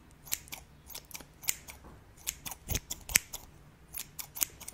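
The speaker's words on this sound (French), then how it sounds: "On va vérifier avec les ciseaux déjà, si les ciseaux fonctionnent toujours en mode ciseaux" Blue scissors snip repeatedly in quick, irregular bursts, crisp metallic cuts close to the ear with no talking.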